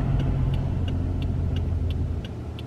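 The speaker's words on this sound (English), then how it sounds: "Oh my gosh, there's a car behind us." A car rolls along the road close behind on a Yellowstone drive, a steady low road rumble with faint regular ticking, no talk.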